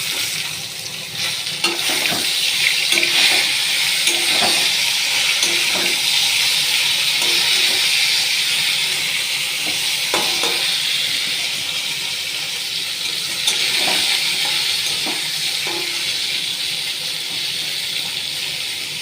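Pointed gourd frying in a pan alongside already-fried potatoes and green chillies, a steady broadband sizzle running throughout with occasional stirring clinks, close and fairly loud, no talking.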